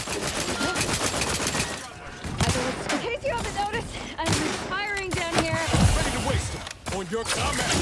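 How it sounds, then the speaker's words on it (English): Gunfire in The Outer Worlds 2 crackles in dense, continuous bursts through the whole stretch, mixed with other game sounds and voices talking over it. "In case you haven't noticed, I'm firing down here."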